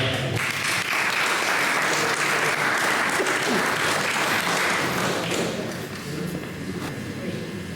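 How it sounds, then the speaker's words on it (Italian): Audience at a poetry competition applauds a poet, a full, sustained wave of clapping close by that thins slightly toward the end, with voices mixed in. "Un applauso a Sandra."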